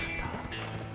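Horse hooves clip-clop in The Escapists 2, a quick run of light hoofbeats layered over steady in-game music and ambience.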